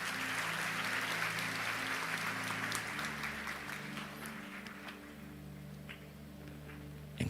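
An audience at a church youth conference session applauds, giving dense sustained clapping at moderate volume over low steady held tones, like a keyboard pad, that continue throughout and shift pitch partway.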